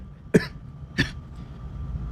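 Two close, loud coughs about half a second apart, with no talking around them.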